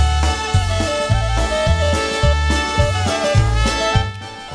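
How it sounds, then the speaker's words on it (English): Lively polka music with an accordion playing over a bouncing oom-pah bass, loud and upbeat, no voices. "featuring the accordion stylings"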